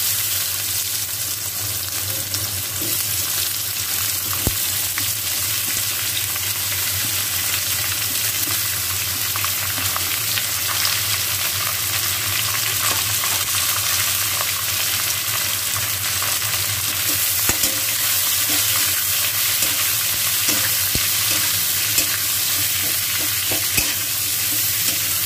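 Onions fry in hot oil after a bay leaf in a home kitchen, a long continuous loud sizzle with constant stirring and occasional spatula scrapes, no voices.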